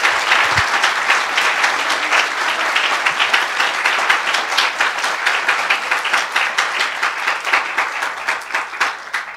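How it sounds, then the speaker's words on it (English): A school Christmas concert audience gives a long, steady round of applause for a program organizer, dense hand clapping filling the room evenly from start to finish, with no voices standing out. "Let's give her a round of applause."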